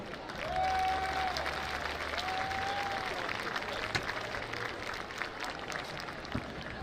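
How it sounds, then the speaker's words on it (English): Audience applause at a high school event honoring band seniors, a steady wash of clapping from a crowd in a large hall, moderately loud and sustained, with a tonal announcement-like sound faint underneath. "Ladies and gentlemen, please give them a round of applause."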